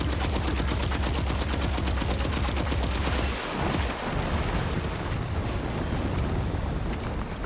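Video game gunfire in Death Stranding 2: a rapid, evenly spaced burst of loud shots for several seconds, giving way to a dense roaring blast that lingers.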